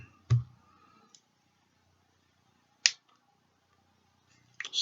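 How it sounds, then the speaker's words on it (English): Scissors snipping cotton wick on an RDA vape atomizer, a few crisp separate clicks close to the microphone with quiet gaps between them. "And then let us just have a quick snip."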